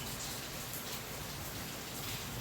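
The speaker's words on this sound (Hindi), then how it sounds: "अभी बारिश का टाइम है" Steady rainfall during the rainy season, a dense, even hiss of drops that stays constant throughout, close and fairly loud with no voices.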